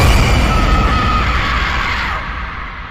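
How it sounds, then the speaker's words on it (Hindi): A woman screams loudly and continuously in a tense scene from the 2008 horror film The Strangers, a harsh, sustained cry over a dense, roaring backdrop that fades slightly toward the end. "और ज़ोर से चिल्लाती है।"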